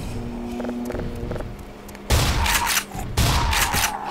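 Two loud bursts of rapid gunfire in a boss fight in the video game Black Mesa erupt after a quieter stretch of low mechanical rumble, separated by a short pause.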